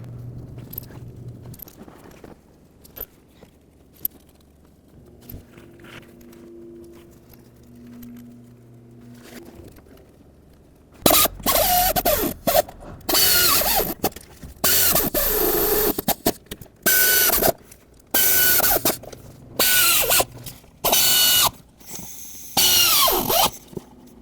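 A ratchet snugs exhaust manifold bolts on a 2005-2010 Pontiac G6, first as quiet clicks and handling, then loud bursts of rapid ratcheting in repeated close strokes.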